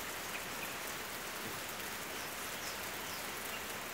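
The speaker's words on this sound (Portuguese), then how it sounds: "Está chovendo." Steady, dense rain falls outdoors on a rural farm property, a continuous even hiss of drops with no voices.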